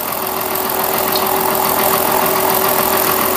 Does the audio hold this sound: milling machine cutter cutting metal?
yes